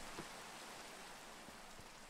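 Steady rain falls in the Minecraft video game, a soft, even hiss of rainfall with occasional faint droplet taps, quiet and unbroken throughout, with no one speaking.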